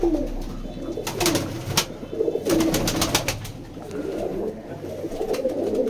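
Rampuri pigeons in a loft coo steadily in low, rolling calls, joined by several sharp, brief flutters or clicks, close and clear throughout.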